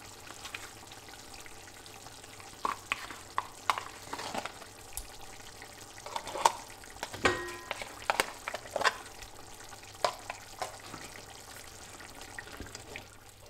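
Creamy mushroom sauce for Swedish meatballs stirred in a pan, a low simmering bubble broken by repeated spoon clicks and scrapes against the pan through the whole stretch, no talking.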